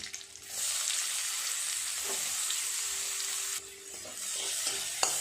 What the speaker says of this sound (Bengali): খুব ভালো করে পেঁয়াজটা আগে ভেজে নেব।